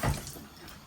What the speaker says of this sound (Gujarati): થોડું પાણી એડ કરતી જાઉં છું.